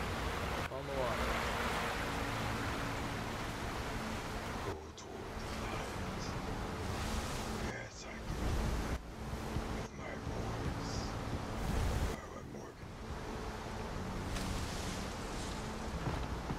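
Water waves in the Alan Wake video game, a steady rushing wash of surf with wind-like noise that breaks off in several brief gaps, fairly faint throughout.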